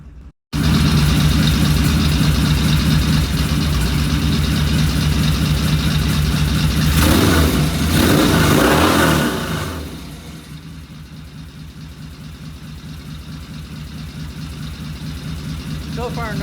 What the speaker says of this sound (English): I'm going to turn off the microphone, and you can hear this engine raw.